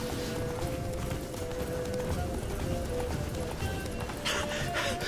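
Horse hooves clip-clop at a run in The Witcher 3 video game, a rapid galloping rhythm under busy in-game ambience, with occasional neighs and brief bursts of louder noise near the end.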